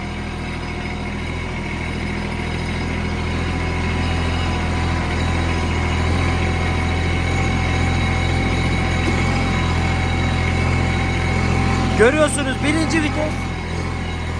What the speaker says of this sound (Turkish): Tam bir bahçe traktörü.